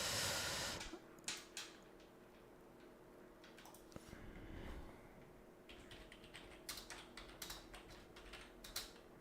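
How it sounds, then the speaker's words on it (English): A computer keyboard clicks under steady typing, quiet irregular keystroke taps scattered through the stretch with no talk over them. "He's typing. Let me type this."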